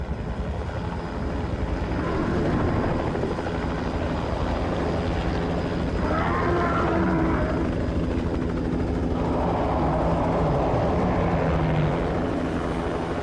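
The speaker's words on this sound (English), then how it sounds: "But then a helicopter flies in." A helicopter in The Thing video game flies in, with a loud, steady rotor and engine drone that swells over several seconds and holds at an even level, with no talking.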